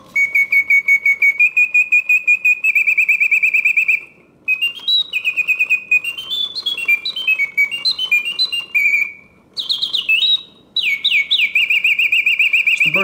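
A vintage Reuge mechanical double singing bird cage trills and whistles in bright, rapid chirping phrases with warbling pitch sweeps, loud and close, broken by short pauses between song bursts.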